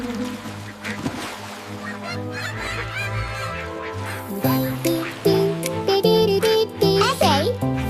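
Cartoon ducks quacking in a children's nursery rhyme, several bright honking quacks mixed with a child-like singing voice and playful music, growing louder midway as the song gets going.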